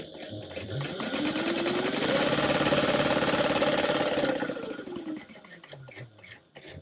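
A sewing machine top-stitches a TPU pouch with an eighth-inch seam allowance. Its close, rapid mechanical whir speeds up to a sustained high-pitched run, then slows and stops with a few short bursts afterward.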